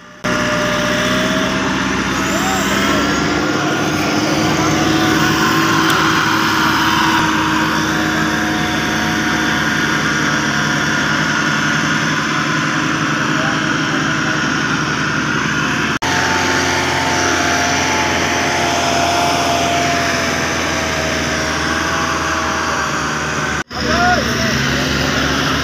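A heavy vehicle engine runs in a sugar mill trolley yard, a loud, continuous close-up drone that holds nearly constant throughout with faint voices underneath.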